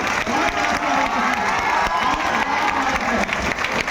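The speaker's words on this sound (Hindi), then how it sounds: "स्वागत करिए जोरदार तालियों के साथ" Jubilant audience applause and cheering greet a biology teacher at a coaching academy: dense, loud, continuous clapping mixed with crowd shouts and whoops, steady throughout with no pauses.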